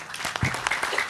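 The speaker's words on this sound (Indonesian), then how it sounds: "Tepuk tangan semua." Applause at a stage gathering of students follows a call to clap, with a steady patter of hands lasting about a second at moderate, fairly close volume and no talk over it.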